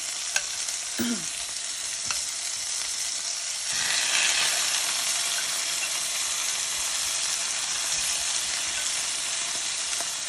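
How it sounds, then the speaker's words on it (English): Oxtails sizzle loudly and continuously in hot oil, a steady frying hiss that swells slightly after a few seconds, with a faint clink early on. "the oil is hot. And we'll just add the oxtails so that they can start browning."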